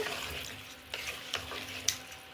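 Onam koottu curry being stirred in a pressure cooker, with a few quick scraping strokes of a spoon against the pot over a soft, wet simmering hiss, close and fairly quiet.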